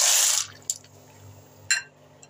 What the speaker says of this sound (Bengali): তো আমি এবার পাস্তাটা বয়েল করার জন্য দিয়ে দেব